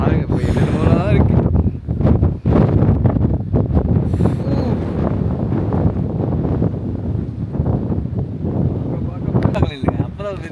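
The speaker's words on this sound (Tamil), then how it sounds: "செம்ம காற்று பவராக இருக்குது, செம்ம லொக்கேஷன்" Strong gusting wind on a hilltop in Sri Lanka's Delthota Loolkandura hiking area buffets the microphone in loud rumbling bursts, with a person talking over it.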